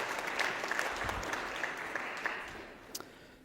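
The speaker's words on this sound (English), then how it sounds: "let's give a nice round of applause for Jared." An audience at a terminal tutorial talk applauds the speaker, a fairly quiet, even patter of clapping from a modest crowd with a few louder individual claps standing out.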